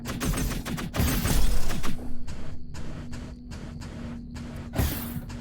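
Explosion and popping sound effects from a film soundtrack, with a burst of rapid crackling pops followed by a series of sharp intermittent bangs over a steady low hum.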